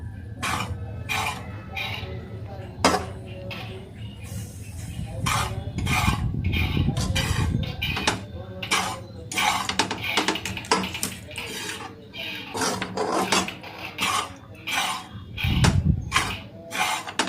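A spoon scrapes and stirs sushila, the Marathwada-style breakfast dish, in a pan, making repeated rhythmic scraping strokes with a soft sizzle underneath, close by and moderately loud.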